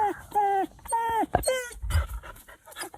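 On a film set, a dog meant to lunge at a costumed actor stuffed with meat whines in rising, falling cries and pants nearby, with a brief low thump and voices around it.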